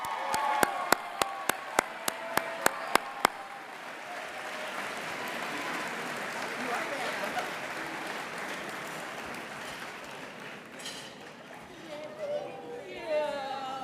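An audience at a chocolate ball gala applauds the grand prize winner, a loud sustained wash of clapping from a large room that starts with a few sharp claps up close, then fades into chatter and cheers near the end.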